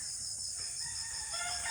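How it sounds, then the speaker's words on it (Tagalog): A red hen clucks while laying eggs in a backyard pen near pigs, giving a short, nasal, drawn-out call close by over a faint farmyard background. "Nangingitlog yung manok"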